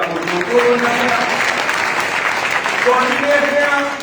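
A congregation claps hands in a dense, sustained round of applause while a voice keeps talking over it.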